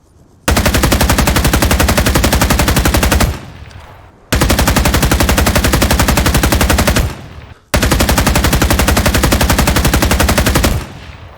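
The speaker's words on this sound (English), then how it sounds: "the AKM has the slowest rate of fire at 600 rounds per minute, and believe me, you can notice the rate of fire difference" Three loud, sustained bursts of automatic fire from an AKM rifle in the Vietnam-era shooter game Rising Storm 2: Vietnam, each lasting about three seconds at a steady 600-round-per-minute cadence, separated by short pauses.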